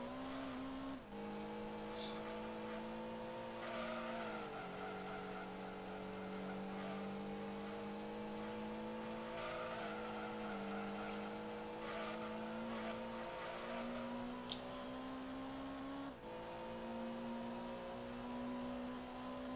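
Honda Civic racing on Trial Mountain in a driving game, its engine holding a steady high drone that dips and climbs with gear changes, with faint tire squeals now and then, played fairly quietly throughout.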